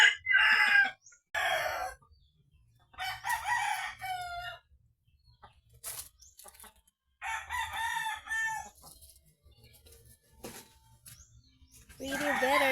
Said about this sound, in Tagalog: Now the chickens are fighting.